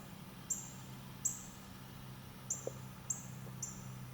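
Five sharp, high-pitched squeaky chips from a northern cardinal come at uneven intervals, thin and fairly distinct against soft outdoor ambience.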